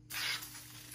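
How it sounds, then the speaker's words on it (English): A short, close spray hisses as a coating goes onto a clogged chain on a John Deere aerator spreader, a quick burst that fades within a second; quiet, with no voices. "I'm just gonna spray a coat over it."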